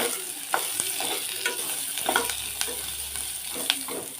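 Mutton curry masala frying in a pan over a low flame: a steady, close sizzle with occasional sharp spoon scrapes and clinks as it is stirred, and no voices.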